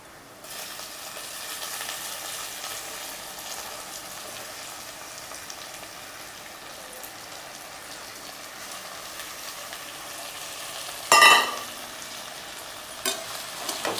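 Prawns fry in a pan of ridge gourd gravy with a steady, moderate sizzle throughout, broken near the end by a brief clatter and a couple of small knocks, with no talking.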